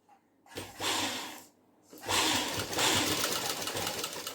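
A sewing machine stitches a padded blouse in two close bursts of fast whirring, separated by a short pause, with no voices over it.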